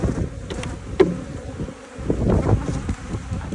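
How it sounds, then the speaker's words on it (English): Honey bees buzzing in a dense, steady drone as they are shaken off a hive frame during a colony split, close to the microphone with a few soft knocks. "I'm going to shake all the bees off"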